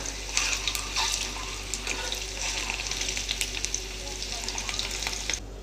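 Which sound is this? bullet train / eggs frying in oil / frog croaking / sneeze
eggs frying in oil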